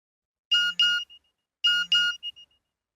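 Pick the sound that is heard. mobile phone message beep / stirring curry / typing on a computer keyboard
mobile phone message beep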